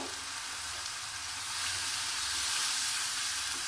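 Masala of cumin-coriander powder, turmeric and green chilli sautéed in hot oil for potol chicken, a steady close sizzle and hiss that swells slightly midway, with no voices.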